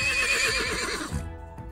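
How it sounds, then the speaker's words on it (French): A horse whinnies loudly and close by in one long, wavering neigh that fades out near the end, with no voices over it. "il est accompagné de son courageux cheval"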